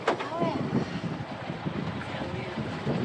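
Sailboat motoring under engine power off the coast, a low steady engine drone under heavy wind buffeting and water rush, with a voice briefly heard in the background.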